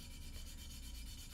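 A reed is rubbed flat against sandpaper with even pressure across its back, producing a steady, continuous close-up scraping rasp with no pauses.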